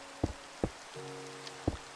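Rain on aluminum awnings in the video game Minecraft: a few sharp, hollow drip taps spaced irregularly over a soft background hiss, with a faint tonal hum in between.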